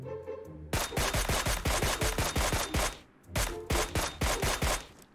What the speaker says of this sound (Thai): มีคนยิง SKS